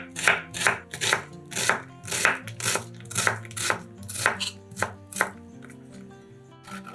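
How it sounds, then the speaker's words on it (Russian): A knife dices an onion into cubes on a cutting board during holiday cooking, with about a dozen steady, crisp chops at a regular rhythm over a soft musical background. "Одну луковицу нарезаем кубиками."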